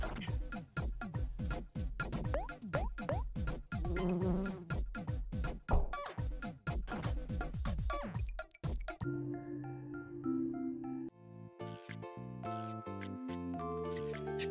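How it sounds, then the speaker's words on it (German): Flies buzz in the video game Omori, a dense stream of whirring, darting tones for several seconds before the game music takes over. "Also, wir müssen hier die Fliegen beseitigen."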